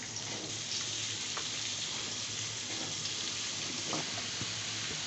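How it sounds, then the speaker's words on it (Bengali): Vegetables frying in sunflower oil give a steady, broad sizzle with small crackles and pops throughout, close by and continuous, with no talking. "এখন আমি দেবো, সবজিটা দিয়ে দেবো তেলের ভিতরে।"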